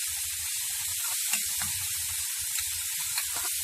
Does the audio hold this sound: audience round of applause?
no